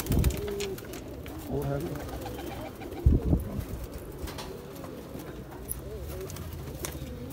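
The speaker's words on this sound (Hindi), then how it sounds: "एक कबूतर आ गया जी" Caged Rampur fancy pigeons coo repeatedly nearby, low rolling calls mixed with someone speaking Hindi.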